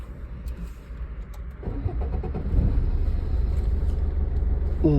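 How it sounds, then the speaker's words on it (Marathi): A car engine cranks and catches with the clutch pressed during a first driving lesson, then settles into a steady idle that grows louder and rumbles close by. "क्लच दाबून चालू करू"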